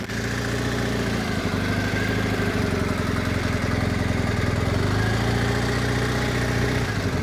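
A motorcycle riding through a slalom course, its engine droning steadily with pitch shifting up and down as the throttle changes, loud and close throughout with no talking.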